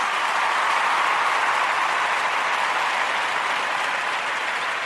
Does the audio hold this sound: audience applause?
yes